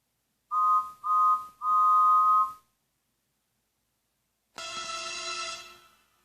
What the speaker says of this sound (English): Then there was a whistle that infuriated her.